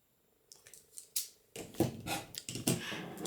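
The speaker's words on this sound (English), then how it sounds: "one of them I'll be using decorative scissors for the edge. So I'm just using a zigzag for it." Decorative zigzag-edged scissors snipping along the edge of card stock, a series of close, crisp cuts that grow busier toward the end.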